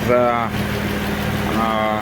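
Alfa Romeo 3.2 V6 24V Busso engine in a 166 idles with a steady low hum and even throb, fairly close, alongside a voice talking.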